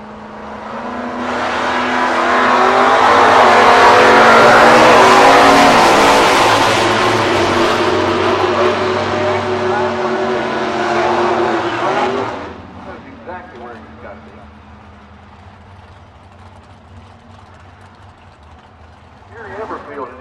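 A 1970 Plymouth Duster and a 1968 GTX launch off the drag strip line in a loud, swelling engine roar that holds for several seconds, then drops sharply as the cars pull away, leaving a quieter rumble and a voice.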